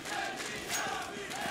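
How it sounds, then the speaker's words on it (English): Crowd cheering for Na'Vi at an ESL One Katowice 2015 Counter-Strike quarterfinal, a faint, sustained roar of many voices from a large arena audience. "the crowd are getting behind Na'Vi"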